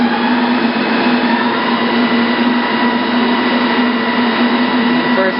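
A tractor transmission with its control system runs at about 1700 RPM under a light load, giving a steady, loud mechanical whine with a constant tonal hum and no speech.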